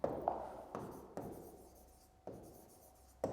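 Chalk or marker strokes on a board during a biology lecture, a few short scratchy writing sounds in separate bursts, close and fairly quiet.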